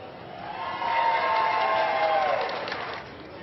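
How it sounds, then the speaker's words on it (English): A couple dozen people surge into a newly opened Warren County racino, their crowd noise building into a loud cheering murmur that swells through the middle and then eases off. "the crowd rushing in"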